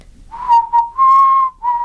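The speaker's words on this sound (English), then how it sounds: "Could you give us a little whistling taste right now? Like Happy Birthday?" Someone whistles a short tune meant as Happy Birthday, a few clear sustained notes in quick phrases with brief gaps, close and alone without talk.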